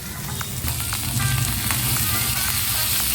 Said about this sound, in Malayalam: ഇതിലേക്ക് ചെറുതായി അരിഞ്ഞ് വെച്ചിട്ടുള്ള ചെറിയ ഉള്ളിയാണ് ചേർത്ത് കൊടുത്ത് വഴറ്റേണ്ടത്.